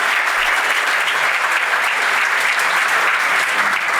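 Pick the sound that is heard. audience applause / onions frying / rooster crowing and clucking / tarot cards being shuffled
audience applause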